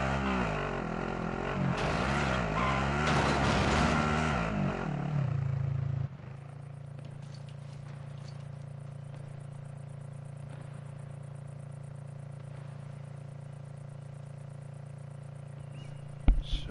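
A car in a video game drives off with a loud revving engine and tire noise at first, then settles into a quieter steady drone, ending with a brief sharp hit.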